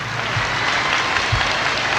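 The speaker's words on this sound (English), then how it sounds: "Give that black man another round of applause." An audience at a Nation of Islam lecture featuring Louis Farrakhan gives sustained applause, a steady, dense clapping from the crowd with brief louder swells and no clear voices.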